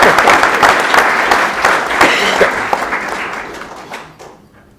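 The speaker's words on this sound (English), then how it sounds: "let's clap for Palm Center" Audience at a county board of commissioners meeting breaks into loud clapping that thins out and fades away over a few seconds, with a murmur of voices beneath.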